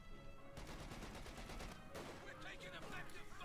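Machine gun fire in the World War II strategy game Company of Heroes 2 during a multiplayer match, rapid rattling bursts of automatic shots set against battle noise, with a commentator talking over it.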